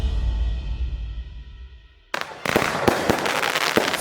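Fireworks from a European-market fireworks manufacturer: a quiet low rumble cuts to a sudden loud barrage of crackling bursts and sharp bangs, with several distinct pops standing out over dense, continuous crackle.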